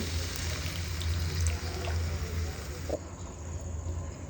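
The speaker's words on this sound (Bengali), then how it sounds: "এখন এতে দিয়ে দেবো সামান্য পরিমাণে জল" Water is poured into a cooking pot holding boiled beetroot and carrot for a Bengali vegetable chop, a steady close rush of liquid that runs for about three seconds before easing to a softer, quieter flow.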